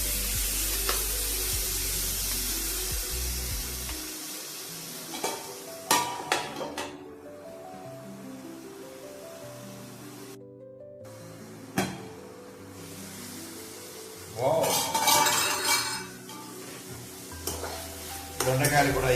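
Ivy gourd and tomatoes are stirred as they cook down in a pan for a chutney. Irregular scrapes and metallic clatters sound close by over a low sizzle, with brief quiet gaps and louder stirring bursts toward the end.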